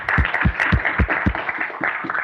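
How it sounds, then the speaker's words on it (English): A conference audience gives a short round of applause for the panelists at an open metaverse blockchain panel. The clapping is steady and moderately loud, with a regular low thumping running through it and no voices. "If you could just have a short round of applause for them."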